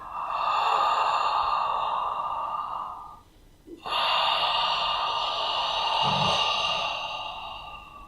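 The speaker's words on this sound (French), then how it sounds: "Le but, c'est vraiment de faire racler l'air ici au niveau de la gorge et que ça fasse une respiration sonore." Audible yoga breathing with air rasped through the throat, two long loud hissing breaths separated by a short pause, close and alone with no talk.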